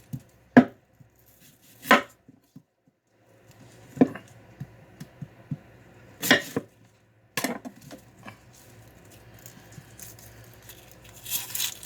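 Knife chopping a whole onion on a cutting board: a few sharp, isolated chops spaced apart, then a denser run of quicker cuts with light rustling, close and fairly loud with no talking.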